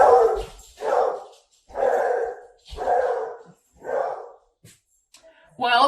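A beagle barks five times in a steady rhythm, loud and close, with short pauses between barks and one more bark starting at the very end, in an otherwise quiet indoor room.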